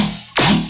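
Metallic synth bass built in Serum with a corpus resonator and frequency shifter; two loud bursts of resonant, bright bass follow a quiet tonal lead-in, with no talking.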